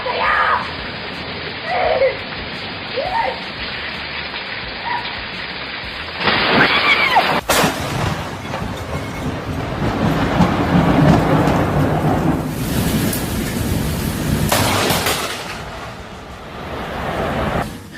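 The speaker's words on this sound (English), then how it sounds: "This lightning bolt struck super close to a hotel balcony in France, and lighting up the sky with a crazy flash." Lightning strikes very close to a hotel balcony in France, with heavy rain hissing steadily and a sudden sharp thunder crack midway, followed by loud rumbling and continued downpour.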